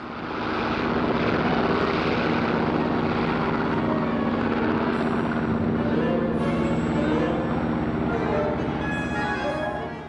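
WWII German Luftwaffe aircraft, the Messerschmitt Me-109 fighter and Junkers Ju-87 Stuka dive bomber, drone with loud, continuous piston engines and propellers, a dense roar holding steady throughout with someone narrating over it.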